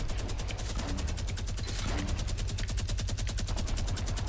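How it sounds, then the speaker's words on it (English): Rapid automatic gunfire in the video game Fortnite, a steady fast rattle of shots running without pause for several seconds, loud and close. "So I think you're shooting a gun at me, man."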